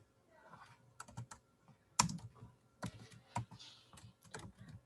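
Keys clatter on a computer keyboard as HTML code is typed, a quiet irregular patter of individual keystrokes with one sharper clack, close up and with no voice.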